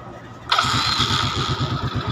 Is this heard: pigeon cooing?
no